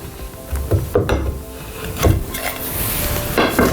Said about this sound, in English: So I'm going to whip off these stops that I put on earlier.